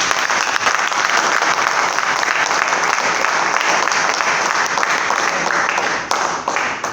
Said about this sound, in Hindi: बजा ताली को।